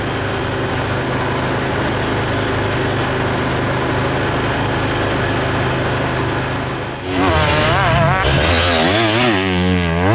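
Motocross motorcycle at an MXGP training track in Sardinia, a steady loud engine drone that gives way to sharp rising and falling revs near the end, close by.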